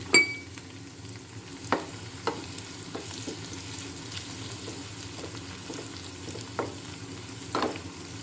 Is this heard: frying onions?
yes